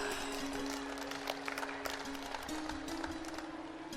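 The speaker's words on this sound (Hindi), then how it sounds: "ताली ऊपर भी बजा रहे हैं" Audience applause at a Swami Ramdev yoga gathering, a steady wash of many hands clapping from a distance with a sustained hum running underneath throughout.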